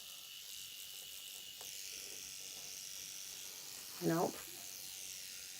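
A battery-powered seam ripper buzzes steadily as it picks at quilt fabric, a thin continuous whine that runs throughout, with a brief voice near the end.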